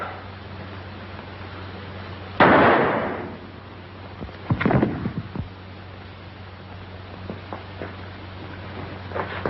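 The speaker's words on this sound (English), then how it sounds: "Hey, stop firing." Gunfire in a 1932 prison drama: a sharp blast about a third of the way in, then a cluster of bangs a couple of seconds later, followed by scattered fainter pops over a steady low hum.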